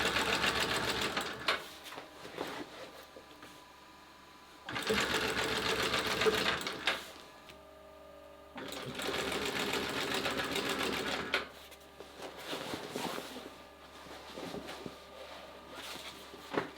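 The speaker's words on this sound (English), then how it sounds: "So I guess this machine feeds the bottom stitch at the same time off a spool as well?" An industrial sewing machine in a traditional Copenhagen sailmaker's loft runs in bursts, stitching the tabling along a sail's edge. Several loud whirring runs of a few seconds each alternate with quieter pauses where the machine idles and people talk nearby.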